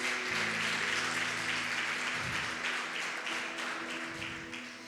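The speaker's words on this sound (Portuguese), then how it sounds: "Você pode dar um aplauso ao Senhor?" Church congregation applauds, a dense patter of many hands at moderate level that gradually thins and softens toward the end.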